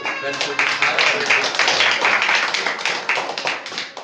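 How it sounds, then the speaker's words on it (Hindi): A church congregation at a Sunday service claps to welcome a newcomer, loud, fairly close hand claps in a quick, steady rhythm that carries on throughout, with a voice speaking over them. "आइए हम तालियां बजा करके"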